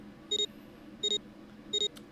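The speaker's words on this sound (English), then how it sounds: "Beep beep." Three evenly spaced pairs of short, bright electronic keypad beeps from the Zero Escape game, clean and close over a faint hum, each pair a quick double tone followed by a pause.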